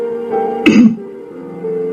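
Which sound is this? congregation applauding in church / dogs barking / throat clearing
throat clearing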